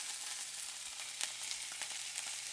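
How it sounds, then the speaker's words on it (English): Steaks sear in a hot pan with a steady, dense hiss and crackle of sizzling fat, quiet and even throughout, with a few sharper pops. "So now we're going to sear these."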